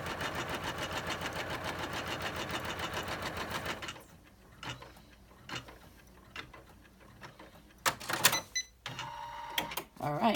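Embroidery machine stitching the pocket base of an in-the-hoop credit card wallet in pink thread: a loud, steady rapid needle chatter for about four seconds, then it stops, leaving scattered clicks, handling noises and soft talk.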